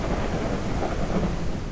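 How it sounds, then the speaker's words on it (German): Heavy rain and thunder in the farming video game Ranch Simulator form a dense, steady roar of downpour with a deep rumble underneath, loud and unbroken throughout. "es regnet aus Eimern"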